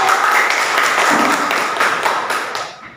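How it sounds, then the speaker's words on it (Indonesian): A classroom audience claps for the first student group after its presentation. The dense, steady clapping fills the whole moment and fades out toward the end. "Beri tepuk tangan untuk kelompok 1."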